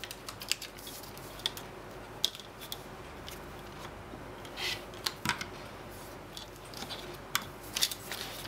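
Quilt fabric edges being trimmed while piecing a spinning star block, a series of quiet close cutting snips and small ticks with scattered handling noises and pauses, no talking.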